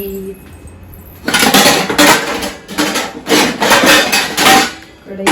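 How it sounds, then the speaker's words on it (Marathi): A metal kadhai is handled in a home kitchen, with loud, close clattering and scraping in several bursts of rubbing and knocking metal, and a short pause between bursts. "त्यानंतर ना कढई घेऊयात"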